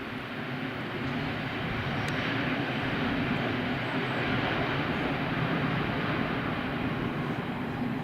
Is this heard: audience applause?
no